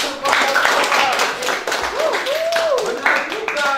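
Students in a classroom clap for a group, a loud, close burst of hand claps that keeps going while a teacher's voice and other voices talk over it.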